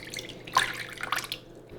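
Water, 40 grams, poured into a saucepan for a bread tea paste, a brief faint trickle with small splashes in a quiet kitchen.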